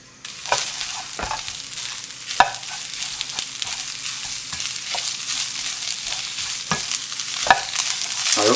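Beef for a Philly cheesesteak sizzling in a pan as sautéed onions and cheese go in, a loud continuous hiss with scattered clicks and scrapes of a utensil throughout.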